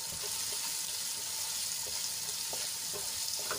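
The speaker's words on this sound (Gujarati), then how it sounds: "ડુંગળીને આપણે ગુલાબી રંગની થાય ત્યાં સુધી સાંતળી લેવાની છે" Finely chopped onions frying in hot oil in a pan, giving a steady, soft sizzle with occasional faint clinks of a stirring spoon, close and alone with no talk.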